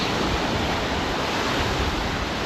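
Ocean surf washing onto a beach fills the scene with a steady, loud broadband roar, constant throughout with no distinct breaks or voices.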